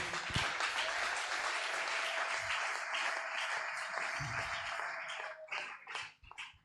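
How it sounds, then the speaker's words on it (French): A church congregation claps together in sustained applause, dense and close, which thins into a few scattered claps and fades out at the end. "Acclamons la parole de Dieu"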